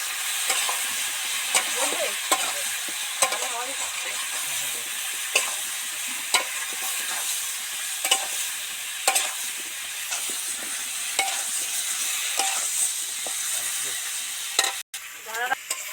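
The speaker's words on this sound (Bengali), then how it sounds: "হলুদ গুঁড়ো লঙ্কা গুঁড়ো লঙ্কা গুঁড়ো ভালো করে পাঁচ মিনিট নাড়তে থাকবো" Koi fish curry with turmeric and chili powder being stirred in a sizzling pan, a steady frying hiss with repeated spoon scrapes and clacks at close range, no talk.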